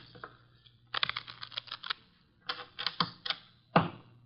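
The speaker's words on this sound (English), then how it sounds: "The cards are shuffled." A deck of playing cards being shuffled at a table in an old-time radio drama, heard as several quick bursts of riffling clicks separated by short pauses.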